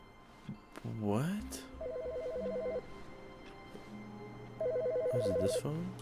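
Telephone in the Stanley Parable video game ringing with a repeated electronic trill in two bursts, accompanied by swooping synthetic tones and a low hum, moderately quiet.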